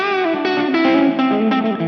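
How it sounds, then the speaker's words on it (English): Electric guitar through a Boss preset with slapback delay and some reverb, volume rolled back and coil tapped: sustained, moderately driven notes change every fraction of a second, each quickly echoed, loud and without voices. "now I can roll back my volume, coil tap a little bit, and now I have a nice slap back delay"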